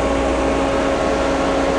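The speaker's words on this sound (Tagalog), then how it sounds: "Yan, nag-high speed yung fan mo niyan." A steady, loud mechanical fan whir with a constant hum and airy broadband noise from a 2024 Toyota Vios XE CVT auxiliary radiator fan running continuously at high speed, with no talking.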